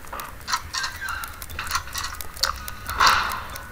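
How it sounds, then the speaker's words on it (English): Muffled clucking and squawking of an animatronic chicken inside a vent on a Five Nights at Freddy's 2 map in Garry's Mod, several bursts over a low droning hum, with no talking. "we've got chicken in the vent"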